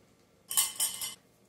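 A spoon scrapes and clinks against a bowl in a few quick strokes while lebkuchen dough of melted butter and baking soda is mixed, close and brief against a quiet background.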